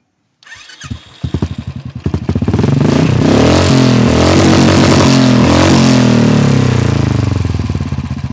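A Royal Enfield Bullet motorcycle starts with a few cranking pulses, then settles into a loud, close, thumping idle and rev heard through its exhaust.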